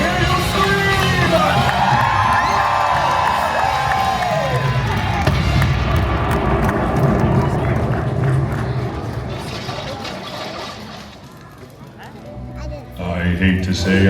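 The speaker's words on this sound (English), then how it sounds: "Let me hear you scream." Crowd screaming and cheering at a Disney villains stage show at Disney's Hollywood Studios, a loud sustained roar of yells and whoops that swells, then fades, with a performer's voice and music mixed in.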